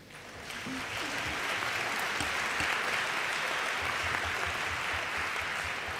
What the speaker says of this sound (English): Clapping is in order.